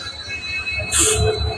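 A train stands at Bordoloni railway station in Upper Assam on a rainy day, with a brief burst of rumbling, wheel noise and a hiss heard close by.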